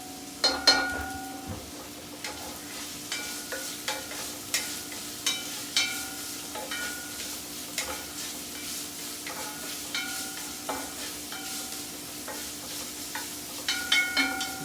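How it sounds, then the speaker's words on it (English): Onions and spices frying in chicken fat for a Hungarian dish, a low continuous sizzle broken by regular spoon scrapes and clinks against the pan throughout, close and fairly quiet, with no one talking. "Let it cook. We want to get some color on these onions."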